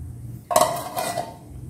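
A deep dish is handled in a home kitchen while cooking fish in a rice cooker, giving a sudden ceramic clink followed by a few lighter ringing knocks, close and fairly loud, with no talking.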